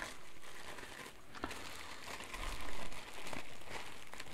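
Crinkly plastic and foam packaging rustles and crackles as a Nikon 500mm f5.6 PF lens is unwrapped, soft close handling noises with a few sharper crinkles, no talking.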